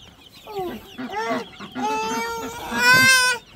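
Chickens cluck loudly and close while being fed on a farm, a burst of rapid bright clucks and squawks rising to a louder squawk near the end, with no talk over them.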